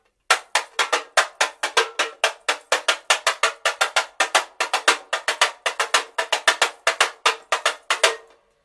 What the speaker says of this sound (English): we have this little Brazilian drum called a tamborim, and it's played with this multi-stick.